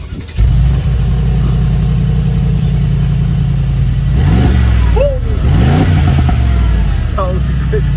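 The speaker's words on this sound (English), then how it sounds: "So now this is what a V8 by turbo engine sounds like." A 2020 Mercedes G63 AMG with a V8 biturbo engine idles loudly and steadily nearby, then blips its revs a few times with rising and falling surges; a person talks over it.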